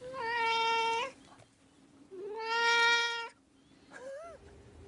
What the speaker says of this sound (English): Do you see what the cat is doing, Kel?